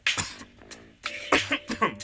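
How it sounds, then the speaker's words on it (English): Harsh, ragged coughing after a smoke session, several loud bursts in two clusters separated by a brief wheezy pause, close and alone. "Every smoke session turns into a cough session eventually."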